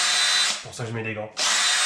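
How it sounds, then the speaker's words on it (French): A drill spinning a small brush to clean brake caliper screws on a Mustang whirs loudly up close in two bursts, with a short spoken pause between them. "une petite brosse sur une perceuse"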